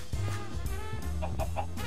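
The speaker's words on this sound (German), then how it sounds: "Überall Hühner." Several Minecraft chickens cluck and bawk close by in a busy, overlapping chatter, with no voices.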